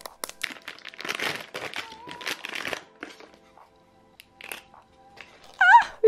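Packaging crinkles and rustles in short bursts as a second package is unpacked, the plastic crackling close by with pauses between handlings and a brief high-pitched voice near the end.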